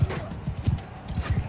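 Horse hooves drum in a quick, steady galloping rhythm in the medieval combat game Mount & Blade II: Bannerlord, the thuds close and fairly prominent with no talking.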